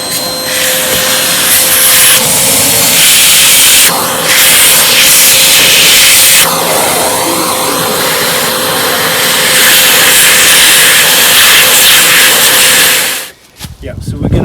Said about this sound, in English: Very important to always plug your hoover in